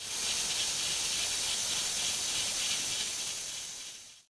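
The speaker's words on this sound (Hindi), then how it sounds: "अब मैं कवर कर रही हूँ कुकर को, और अब 15 से 20 मिनट तक हम इसको प्रेशर देंगे।" A strong, steady hiss of steam escaping a pressure cooker cooking mutton stew runs for several seconds, then cuts off abruptly at the end.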